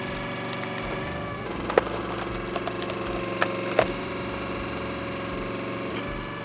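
Split Fire 4290 commercial log splitter with its engine running steadily at a mid-pitched idle, loud and close, with a few sharp clanks and knocks over the drone.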